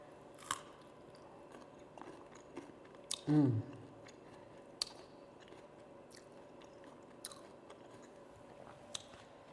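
A Cajun-seasoned snack is eaten in a quiet space: one loud crunching bite midway, then faint scattered chewing clicks.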